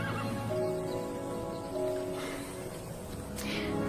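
Several horses neigh and whinny over a steady ambient bed, with faint hoofbeats and one sharper, higher call near the end.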